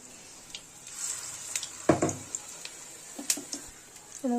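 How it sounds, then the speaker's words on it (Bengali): Bak flower fritters fry in hot oil with a soft, steady sizzle, broken by a few sharp spatters and clinks and one louder burst near the middle. "সব কটা দিয়ে দিয়েছে, এবার এটা ফ্রাই করতে হবে।"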